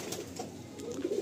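Pigeons in a loft, soft low cooing murmurs rising and falling over a light background hiss, growing a little fuller toward the end.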